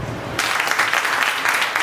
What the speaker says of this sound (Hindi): एक बार आप सब अपने लिए तालियां बजाओ